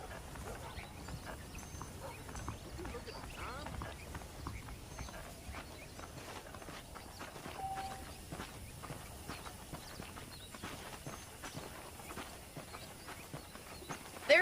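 Horse hooves clip-clopping in the Red Dead Redemption video game, a steady faint walking rhythm under a quiet ambient bed, continuous for the whole stretch with no speech heard.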